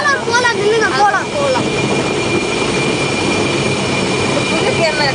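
An amusement park ride train at Maharaja World in Coimbatore rumbles steadily and loudly, with wavering voices and shouts near the start over the continuous roar.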